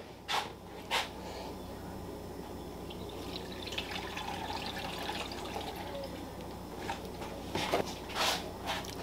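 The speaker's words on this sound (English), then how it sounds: "Add the milk." Milk poured over frozen mango and banana fruit in a blender jar for a smoothie, a soft continuous liquid pour with a few louder splashes near the start and end, close by with no talk.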